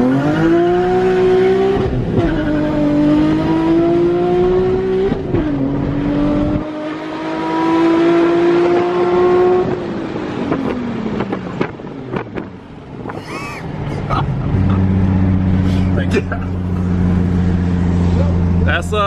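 Cars accelerating hard in a street race between a stock and a modded HR, engines climbing through gears with rising whine and shifts, wind buffeting the mic, people talking and shouting nearby.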